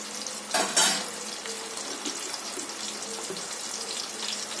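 Ginger garlic paste is stirred into a simmering meal maker (soya chunk) curry in a pan, a brief louder scrape and splash near the start, then a steady soft bubbling sizzle, close and quiet with no talking.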